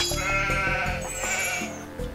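Sheep bleating in the video game Age of Empires II, a few wavering bleats in quick succession over soft in-game background sound.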